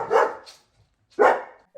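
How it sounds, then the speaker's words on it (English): A dog barks twice, loud and close, with a short pause between the two barks and no talking. "her barking when people come to the door"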